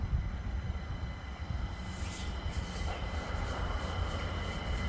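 LNER Azuma train rounding the bend at Hitchin on the East Coast Main Line, a broad continuous rumble and rush of passing carriages filling the whole stretch, fairly loud and steady, with no talking.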